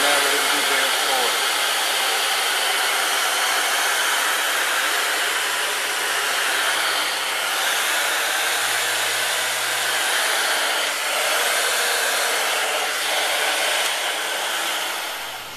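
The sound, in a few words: Miele S1 Quickstep vacuum cleaner running on bare floor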